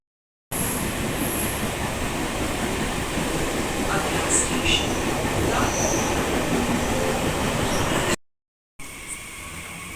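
Continuous rumble and rattle of a moving train, steady and loud, with faint squeals and a sudden cut near the end.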